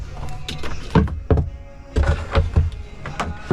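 A gas tank is slipped into the frame of a Polaris SLT 750 personal watercraft, giving a series of close, dull thunks and knocks with scraping and shuffling as it settles onto rubber pads.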